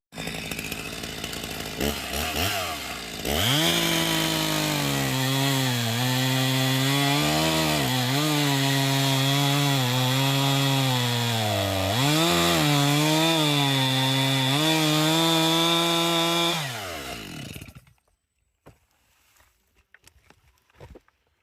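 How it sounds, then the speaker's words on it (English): A chainsaw roars steadily for about fifteen seconds, its pitch dipping and rising as it cuts tree trunks into 30 to 40 centimeter firewood lengths, then cuts off, leaving quiet. "taking the chainsaw and cutting up each of these logs into about 30 to 40 centimeters long"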